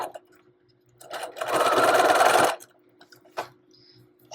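Sewing machine stitching an invisible zipper, running in one steady loud burst of about a second with short quieter starts before and a brief stitch after, no talking.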